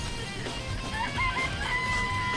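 Chickens in the Danganronpa video game, clucking and crowing in a steady, fairly loud barnyard chorus with overlapping calls throughout.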